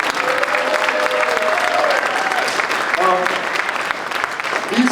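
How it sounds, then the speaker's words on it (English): An audience at a civil rights restoration event applauds the state attorney general, a dense, sustained clapping that fills the room throughout, with a few voices and whistles faintly mixed in. "Give the People's Attorney General a big round of applause."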